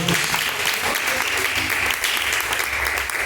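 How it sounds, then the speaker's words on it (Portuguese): A church congregation claps in praise during a Pentecostal service, a dense, steady wash of many hands that fills the whole stretch at close range, with a faint voice or two underneath. "palmas que louvam e engrandecem o nome do Senhor"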